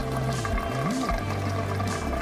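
Water pours and trickles down into the sump of a turtle tank as a steady close gurgling flow with a low tone that dips and rises briefly, with no voices.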